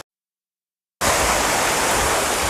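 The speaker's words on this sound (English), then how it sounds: "So the creek comes down here to this spillway, and then it disappears underground, right there." Creek water pours down a spillway at Battle Creek Falls, starting abruptly after a second of silence, then a loud, steady rushing roar.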